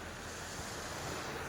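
Sea waves wash onto the shore at Siquijor in the Philippines, a steady broadband surf roar mixed with wind noise on the microphone, continuous and fairly close with no talking.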